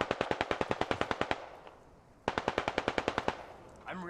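Automatic weapon fire in the video game Squad, two long bursts of rapid rhythmic shots separated by a short lull, loud and close, followed by a faint voice.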